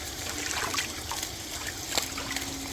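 Water swished and sloshed by hand over masala-coated chicken in a bowl to rinse it, soft close splashing and trickling in quiet irregular bursts.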